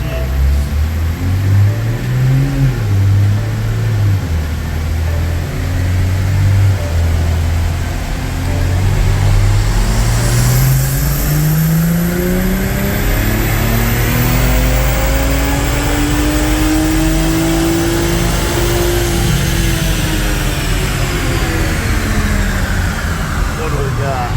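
A car tuned with a JB4 custom map revs hard through a full pull on a dyno, its engine note climbing steadily and loud over a long run, with people talking over it.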